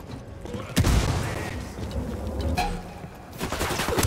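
A grenade blast and bursts of automatic gunfire in the video game Ghost Recon Wildlands, a sharp boom followed by rattling shots and rumble at moderate level.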